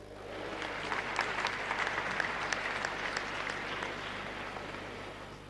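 Large congregation applauding at a thanksgiving service for the final funeral rites of the Asantehene's mother, a broad steady wash of clapping heard from a distance, rising slightly and holding throughout.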